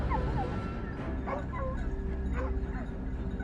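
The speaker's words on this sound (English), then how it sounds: "the barking of the hounds echoed from within the bushes" Hunting hounds bark and yip in the bushes, with high whimpering cries over a dense, rumbling background, moderately close and continuous.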